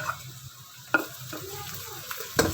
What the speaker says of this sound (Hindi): अब हम हरी मिर्चें डाल देंगे।